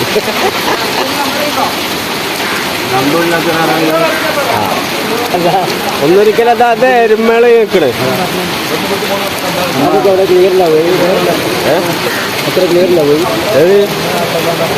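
Heavy rain pours steadily across an outdoor cattle market in Kerala, a dense broadband hiss running the whole time beneath loud, near conversation from several people.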